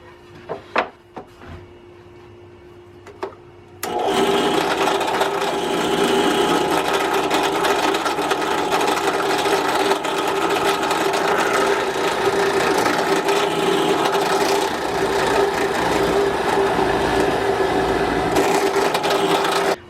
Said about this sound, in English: I'll actually drill into this and it won't tear open the back of the board